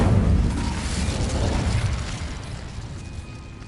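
Incendio fire spell cast in Hogwarts Legacy on PS5, a loud whooshing burst of flame that roars up at once and then slowly fades.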